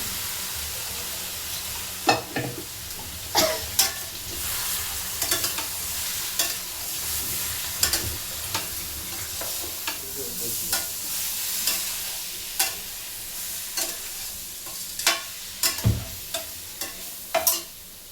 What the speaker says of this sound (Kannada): ಇದು ಒಗ್ಗರಣೆ ಆಗೈತೆ